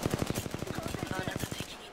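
Rapid automatic gunfire in the shooter game Apex Legends, a fast steady burst of evenly spaced shots firing loud and close for nearly two seconds before cutting off.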